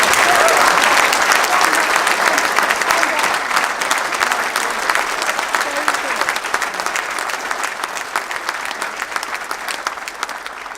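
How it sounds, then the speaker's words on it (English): A political rally audience gives the candidates another round of applause at a Change UK event for a People's Vote, loud sustained clapping from a large crowd that slowly fades across the whole stretch. "Can we just give our fantastic candidates another round of applause?"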